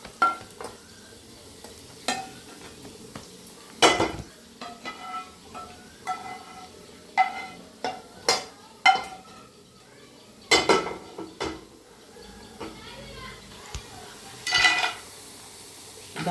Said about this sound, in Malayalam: ഇതിലേക്ക് ഈ നെയ്യിൽ കൂടെ തന്നെ നമുക്ക് അണ്ടിപ്പരിപ്പ് മുന്തിരിക്ക് മൂപ്പിച്ചെടുക്കാമല്ലേ